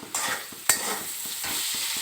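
Bitter gourd fries and sizzles in a pan at home, with a steady hiss broken by several rhythmic scrapes of stirring, one sharper clink near the start.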